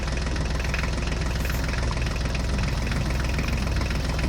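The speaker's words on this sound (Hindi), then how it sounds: "अब ये ट्रैक्टर गाड़ी इन गाड़ियों को लेकर चली जाएगी" A Mahindra tractor engine runs at a steady idle-like throb, loud and continuous with a low knocking rumble and no voices over it.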